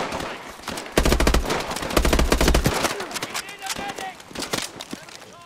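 Rapid automatic gunfire from an Advanced Warfare campaign mission in a video game, loud and close, with dense bursts of shots in several volleys and scattered single cracks between them, mixed with game voices.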